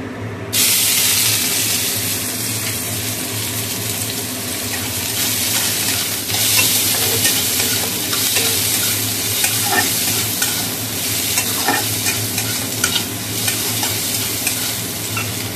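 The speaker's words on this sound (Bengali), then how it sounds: "আর পেঁয়াজ ফোড়ন দেবো।" Sliced onion dropped into hot oil already crackling with nigella seeds, a loud close sizzle that holds steady throughout with scattered pops and spatter, stirring scrapes now and then, no talking.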